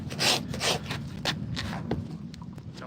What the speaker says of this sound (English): we use a rasp just to get a huge nail file